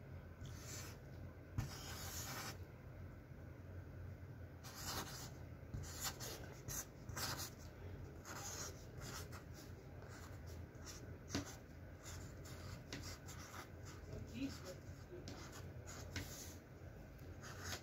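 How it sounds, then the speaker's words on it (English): Pen scratching across mail by hand as an address is written, soft irregular strokes and rubbing in short bursts, faint and close, with no talking. "I should probably write it on this one."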